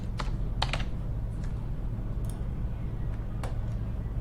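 Keys on a computer keyboard tapped in a few scattered, quick clicks over a steady low room hum, fairly close and light.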